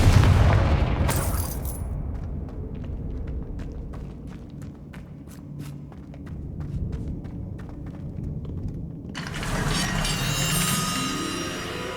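Confringo fire spell cast in the Hogwarts Legacy video game: a loud booming blast at the start gives way to a stretch of scattered crackles and clicks, then a second roaring burst of noise swells near the end.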